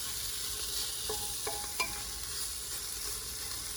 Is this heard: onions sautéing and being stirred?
yes